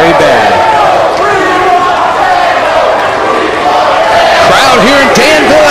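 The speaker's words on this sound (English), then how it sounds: "Crowd here in Danville at Everett College already cheering for the table." A dense wrestling crowd cheers loudly and continuously in a college arena in Danville, Virginia, during a tag team title match, with shouts and chants swelling throughout.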